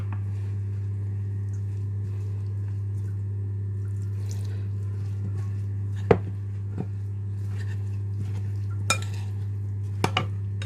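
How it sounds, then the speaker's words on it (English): Pakora batter of whole cumin and water mixed in a bowl: faint soft stirring under a steady low hum, punctuated by a few sharp clinks of a utensil against the bowl. "I'm just going to mix this up and then add some water gradually until it's a thick"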